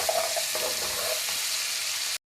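Chicken fries in a hot pan, giving a steady, even sizzle that carries on for about two seconds, then cuts off abruptly.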